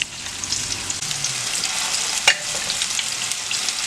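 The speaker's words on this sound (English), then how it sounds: "we're just browning them. We're just getting a light sear on them" Meatballs searing and browning in a pan, a close steady sizzle with one sharp clack partway through as something knocks against the pan, no speech.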